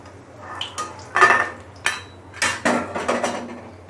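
Fried bottle gourd pakoras being lifted out of a pan of oil, with several sharp metallic scrapes and clinks of a utensil against the pan at an irregular rhythm, close and fairly loud.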